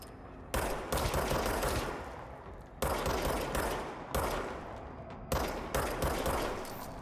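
Gunfire in the video game Control, four loud bursts of rapid automatic fire, each starting sharply and tailing off, separated by short gaps, with no talking.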